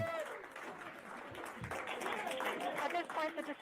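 NASA mission staff celebrate the Perseverance rover touching down on Mars with sustained applause and cheering, a busy crowd swell full of shouting voices that grows slightly louder toward the end.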